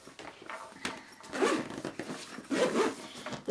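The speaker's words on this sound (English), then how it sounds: "The twin zips make it perfect if you just want to open a little bit to add something or take something out." The zipper on a Reisenthel cooler bag with an aluminium-foil-lined interior is pulled open in several quick rasping strokes, close and clear, with no talking over it.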